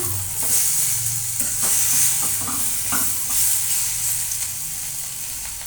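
Spices fry in a pan with potato, pointed gourd, papaya and tomato for a vegetarian curry, a continuous close sizzle broken by repeated scraping stirs, with no speech.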